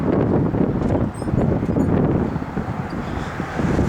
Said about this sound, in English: that wind is whipping right now